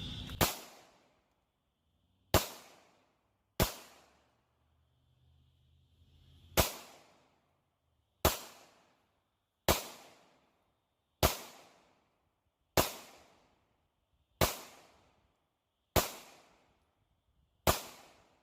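A Taurus GX4 pistol firing lead hand loads at an outdoor range, with about eleven sharp, loud shots spaced one to two seconds apart, each followed by a brief decay, and faint background noise between shots.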